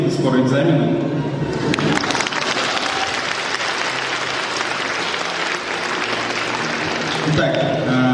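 An audience applauds at an award ceremony for the best teachers of a business school. The clapping is loud, dense and sustained for several seconds, then briefly thins out near the end.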